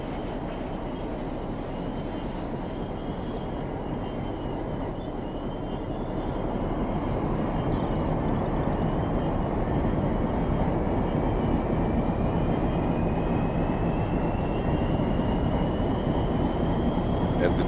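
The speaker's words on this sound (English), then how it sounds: "And the train is rolling." A train in the Train Sim World video game rolls along the Czech Liberec–Stará Paka line, a steady broadband rumble that swells louder about midway, with a faint rising whine over it.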